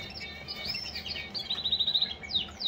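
A pet canary sings in a bright, high run of chirps and quick trills, fairly close and clear, with a rapid rhythmic burst midway and a few sweeping notes at the end; no voices.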